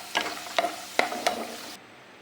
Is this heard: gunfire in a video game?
no